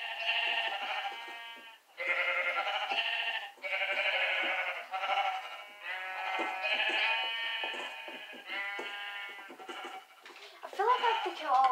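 Loud, overlapping sheep bleats from the video game Minecraft repeat almost without pause, the wavering calls piling on one another close up.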